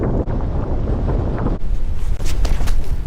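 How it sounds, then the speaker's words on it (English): Strong gusting wind buffets the microphone out on a frozen lake during an ice fishing trip, a loud continuous roar that surges harder partway through, with no voices. "this wind"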